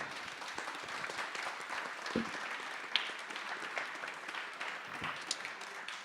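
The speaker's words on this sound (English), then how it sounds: "Let's give him a round of applause" An audience at Nassau Coliseum applauds, a dense, steady wash of many hands clapping that holds for several seconds at moderate loudness, heard from within the crowd.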